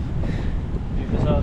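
Strong wind at a seaside spot in Taiwan buffets the microphone in a loud, continuous rumble with gusty swells and no pauses.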